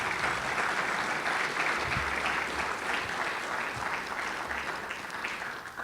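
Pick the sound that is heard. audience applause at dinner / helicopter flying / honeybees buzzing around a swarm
audience applause at dinner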